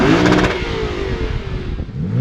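A 2021 Lexus RC F Track Edition or BMW M3 sports car revs outside, its engine note loud and close, rising sharply and then falling back with a rough, throaty exhaust.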